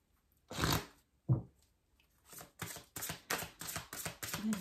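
A deck of oracle cards is shuffled nearby, with a few loose riffles and then a run of quick, regular papery swishes and flicks, faint and with no talking.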